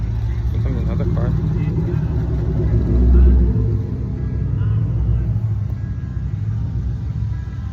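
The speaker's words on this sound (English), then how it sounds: "Here comes another car." A car rolls up at an outdoor car show in Robesonia, Pennsylvania, its engine giving a moderate low rumble that briefly swells midway, with people talking in the background.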